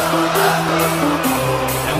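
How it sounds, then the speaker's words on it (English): A concert crowd sings along together in a dense, sustained wash of voices with steady held tones and occasional whoops, loud and continuous throughout. "And the crowd that sings."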